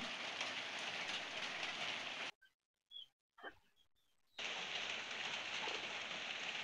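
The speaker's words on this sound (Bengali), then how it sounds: "বাইরে প্রচুর বৃষ্টি হচ্ছিল, আকাশটা মেঘলা মেঘলা।" Heavy rain falls outside under a cloudy sky, a soft steady hiss heard from indoors at low level, broken by about two seconds of near silence before it returns.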